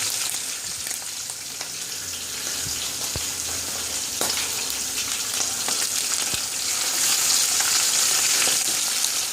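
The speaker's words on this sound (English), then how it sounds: "we're gonna leave this on and let it sear on all sides till we get a nice brown" Beef short ribs searing in a hot pan, giving a loud, continuous close-up sizzle and crackle with occasional pops and faint clinks.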